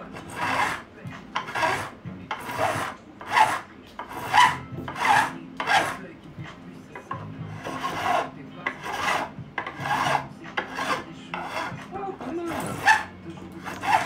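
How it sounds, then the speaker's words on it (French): A hand file rasps across a workpiece braced against a table, about fifteen loud, regular back-and-forth strokes close by, with occasional barking from a dog in the background. "On voit que je m'appuie sur le sur la table avec la lime."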